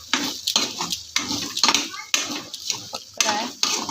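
A spoon scrapes and clacks repeatedly against a pan as a home-remedy mixture is stirred and roasted, a steady rhythm of near metallic strokes, with a faint sizzle and some talk in between.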